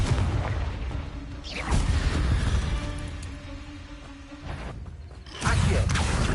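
Confringo blast spells go off in a Hogwarts video game as a few heavy, booming bursts, with a louder impact near the end over a dense, rumbling game background.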